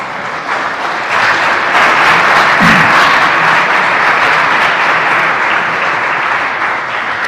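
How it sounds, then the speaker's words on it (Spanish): A congregation bursts into loud, sustained applause during a sermon, a thick, even roar of many hands clapping that swells early and holds steady throughout. "¿Cuántos le dan un aplauso al Señor?"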